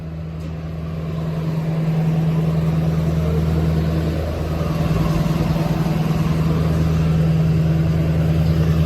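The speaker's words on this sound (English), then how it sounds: "the diesel vehicles idling for more than 5 minutes" A diesel engine idles steadily with a deep, constant low hum that continues unbroken throughout, with no voices.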